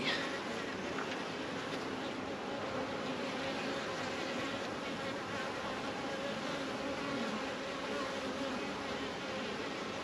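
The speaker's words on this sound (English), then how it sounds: "So still plenty of bees, that's a good sign." Steady buzzing of many bees around a hive fills the air, a continuous droning hum close by with no pauses.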